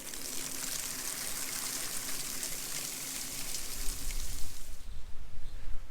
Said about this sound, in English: Nice shower and shave.